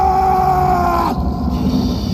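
An enraged berserker's deafening scream from the film Logan: a loud, strained, sustained howl that breaks off abruptly partway through, followed by rough, lower growling.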